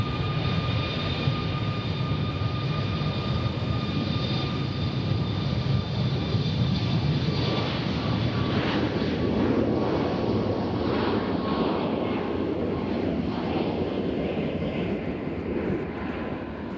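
A Southwest airliner at Nashville International Airport roars loudly and steadily, its jet engine noise sustained and broad as it moves past, with no talking.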